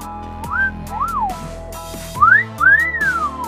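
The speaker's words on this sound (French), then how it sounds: "Regardez gars comme il siffle." A bird whistles in Thailand on Koh Pha Ngan, several clear rising and falling whistled phrases, close and loud, with short pauses between them over quiet background.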